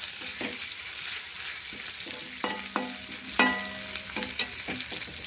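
Chopped banana flower fries quietly in a pan while a spatula stirs it, giving soft sizzling under sharp scraping clinks and taps, close by and with no one speaking.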